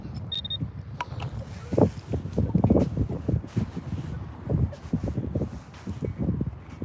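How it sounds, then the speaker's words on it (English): Strong gusting wind buffets the microphone on a New York City beach, a steady low roar with louder bursts, heard close and continuous throughout. "the wind is brutal"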